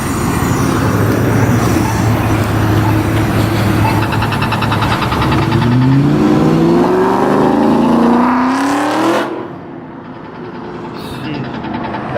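A Ford Mustang revving hard at a car meet, a loud close engine roar rising in pitch as it accelerates away, then fading to background noise.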